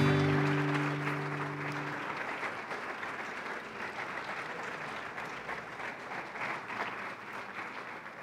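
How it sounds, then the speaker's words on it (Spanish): A church congregation applauds during a sermon, steady broadband clapping that fills the room, with a brief sustained tone fading out at the start. "Démosle un aplauso al Señor."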